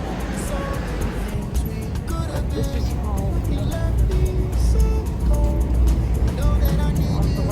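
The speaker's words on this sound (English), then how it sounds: "The bus coming" A London bus comes along a street, its engine rumble swelling over steady traffic noise as it nears, while a person speaks briefly.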